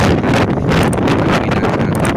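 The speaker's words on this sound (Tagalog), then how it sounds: "Napakalakas ng hangin dito, dala ni Bagyong Karina." Loud, roaring typhoon wind from Typhoon Karina blasting directly into the microphone, a continuous heavy rush with gusty buffeting and no voices.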